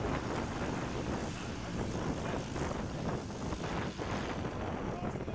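A Highlander aircraft on landing approach in a gusty crosswind at a STOL practice event in Jennings, Louisiana, its steady propeller drone blending with continuous wind rush on the microphone.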